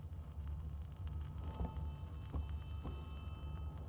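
A telephone rings in the video game Poppy Playtime chapter 3, faint repeated rings sounding over a low ambient rumble.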